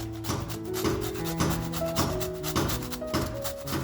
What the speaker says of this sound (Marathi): त्याच्यानंतर बघा थोडीशी कैरी किसून टाकते